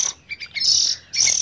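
A hand-fed young songbird chirps in short, bright bursts, a few quick calls and then longer sustained cheeps, close and fairly loud with no talking.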